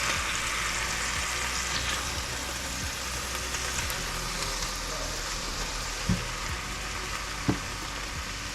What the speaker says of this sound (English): I'm going to keep stirring our grouper to make sure it cooks evenly throughout.